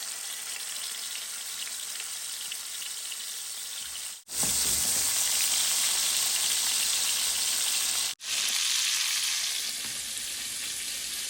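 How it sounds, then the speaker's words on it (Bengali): Fish rubbed with chili powder, turmeric and salt fries in hot oil in a pan, a loud, continuous sizzle with two brief cuts. "এখন মাছগুলো আমি ভেজে নিব আর এখানে আমি তেল আগেই দিয়ে রেখেছি"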